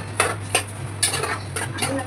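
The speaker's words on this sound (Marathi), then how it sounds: "तांदूळ थोडे परतून घ्यायचे आहेत फोडणीमध्ये" Washed rice being stirred and sautéed in a pan of hot tempering, a metal spoon scraping and clinking against the pot in several short bursts over a steady low hum, with no talking.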